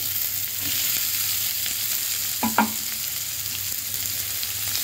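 Chopped large prawns frying in a pan give a steady, close sizzle with a couple of brief clinks or stirring sounds midway, and no one speaks.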